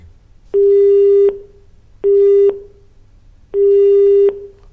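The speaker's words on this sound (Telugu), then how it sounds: "ఫోన్ కట్ అయింది సార్" A telephone disconnect tone sounds after a call ends, three loud, evenly spaced steady beeps, each about three-quarters of a second long, over faint background hum.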